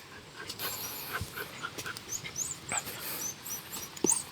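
Dogs pant steadily up close while digging at a hole in the earth, their quick breaths mixed with soft sniffs and faint scraping of soil, with occasional light clicks and shuffles.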